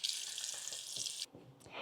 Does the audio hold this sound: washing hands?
yes